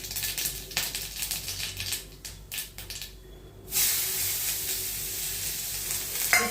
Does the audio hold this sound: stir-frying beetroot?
yes